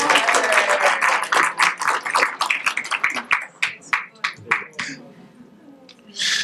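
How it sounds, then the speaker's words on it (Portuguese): A small group claps for a woman named Silvana in a lecture setting, starting as a thick patter and thinning to scattered individual claps that die away, with talking mixed in. "Palmas para a Silvana."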